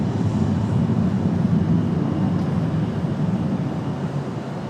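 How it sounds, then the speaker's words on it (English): An American Airlines jet departs Raleigh-Durham for Phoenix with a steady, low, rumbling engine roar at moderate distance that fades slightly toward the end. "that one off to Phoenix Sky Harbor, American Airlines 3033"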